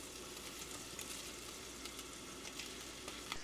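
Fish caught from a pier sizzles steadily in a frying pan, giving a continuous close hiss with small crackling pops and no one speaking.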